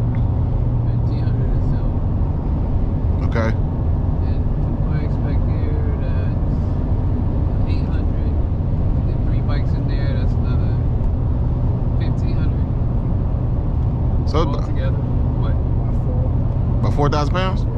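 Inside a V8 GMC Denali pickup towing a trailer of roughly 5,000 pounds, a loud, steady engine and road drone fills the cabin while people talk over it.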